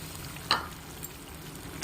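Drumstick pieces dropped into a simmering gravy, a faint bubbling sizzle broken by a couple of soft splashes and clatters, quiet and close, with no talk.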